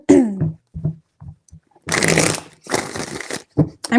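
Tarot cards being shuffled in three bursts, each a dense papery riffle lasting about half a second, close and fairly loud, with short quiet gaps and faint voice-like murmurs between them.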